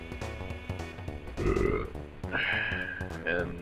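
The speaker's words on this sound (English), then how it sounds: "I just got done eating. That's why I burped three times in a row." A man burps three times in a row after eating, low croaking belches rising over game music in the background.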